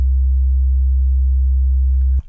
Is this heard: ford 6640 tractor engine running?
no